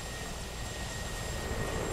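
A Mi-24 helicopter hovering in the DCS flight simulator, a steady droning engine and rotor hum with constant tonal whine, unbroken and even throughout.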